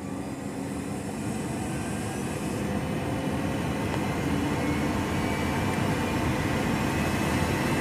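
Cessna Citation 560 jet engine spooling up during start, a steady loud broadband roar and whine that builds gradually and holds without pause.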